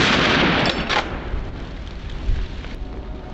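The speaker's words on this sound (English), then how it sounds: "Moments later, startled by the gunshot, another herd bolted through a narrow passage" A loud gunshot blast during a wild boar hog control hunt on a Texas farm fades into a rumbling echo, and a smaller thump follows moments later.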